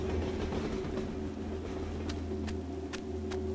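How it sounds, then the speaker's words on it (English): A train rumbles along in a video game, a low steady engine drone and hum with a few quick metallic clicks near the end, quiet and without talk. "Oh, train."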